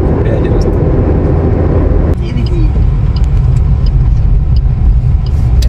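Car cruising along the Sambalpur–Raipur national highway in India, a steady loud rumble of engine and road noise filling the whole stretch, with people talking inside over it.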